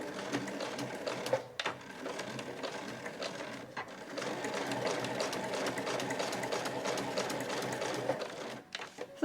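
A home sewing machine stitches back and forth through heavy canvas and leather on a tote bag, a steady rapid mechanical chatter with brief pauses, close and moderately loud.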